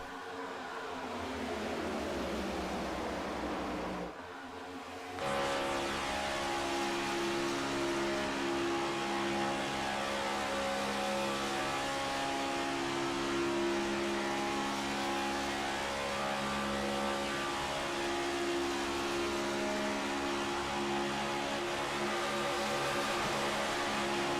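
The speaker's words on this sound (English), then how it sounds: "what a beautiful sound that car makes as he gets right on the back bumper of Winstead" A race car engine roars steadily at high revs from onboard at Daytona, loud and sustained, with a brief dip in pitch around a gear change early on.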